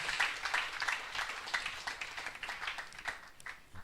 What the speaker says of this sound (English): Can you clap your hands to make them louder,